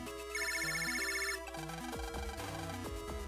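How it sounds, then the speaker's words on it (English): A water heater alarm ringing in the Mega Man Battle Network 2 video game: bright electronic ringtone-like beeps in a repeating chiptune pattern, loud and continuous, then shifting to a busier alert melody over a steady game soundtrack. "the water heater alarm is ringing"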